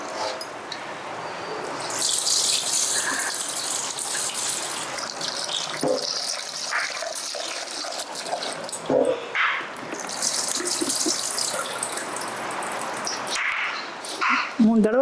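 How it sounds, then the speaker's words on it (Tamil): Millet and moong dal rinsed under running water in a kitchen, splashing and pouring in uneven bursts with swishing and draining between, close by, with someone speaking over parts of it. "மூணு தடவை தண்ணி ஊற்றி வாஷ் பண்ணுறேன்."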